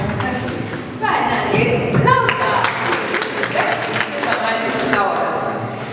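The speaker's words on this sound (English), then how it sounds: "a round of applause for Amson" An audience at a Kabale University guild politics event claps in a round of applause, scattered sharp claps mixed with voices and a general crowd murmur at moderate volume.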